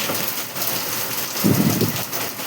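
Heavy rain pours down steadily during a thunderstorm, a dense broadband hiss that swells briefly in the middle with a low rumble, outdoors among trees.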